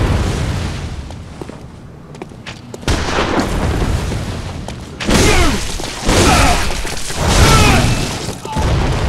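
Gunfire from an enemy hunter in the Bloodborne video game: several loud booming shots ring out over a rumbling background, spaced a few seconds apart, amid other combat noises.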